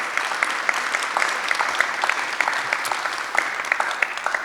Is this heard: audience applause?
yes